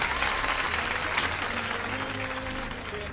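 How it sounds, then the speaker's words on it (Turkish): Canned applause sound effect in an online quiz show, a short steady wash of clapping and crowd noise with a low hum beneath it. "Hepinize bir alkış gönderiyorum bir de."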